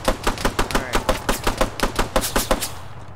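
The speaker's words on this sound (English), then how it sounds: "They keep shooting fucking Jacko, I'm getting mad." Rapid automatic gunfire in a military video game, a loud even burst of about fifteen shots fired in steady rhythm over three seconds, then stopping.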